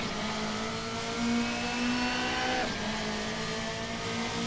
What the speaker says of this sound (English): Cheeky little handbrake rip.